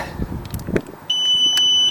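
A Kawasaki ZX8R Ninja motorcycle alarm chirps twice in quick succession as it is switched off, sharp, electronic, loud and close, after some faint handling noises.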